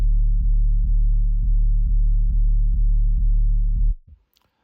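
A deep, clean synth sub bass with the highs cut pulses steadily in a repeating pattern, with no high end, then cuts off abruptly near the end.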